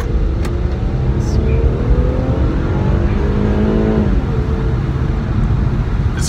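A 2018 Infiniti Q60 with the 3.0 engine and automatic transmission accelerates hard from a takeoff, its engine note climbing loud and steady and staying close throughout.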